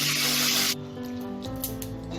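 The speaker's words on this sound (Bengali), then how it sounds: "এই মাছ দুটোকেও আমি একইভাবে ভেজে নিয়ে তুলে নেব।" Hilsa fish frying in hot oil: a bright, loud sizzling hiss for under a second, then a quieter bubbling crackle that continues over a faint hum.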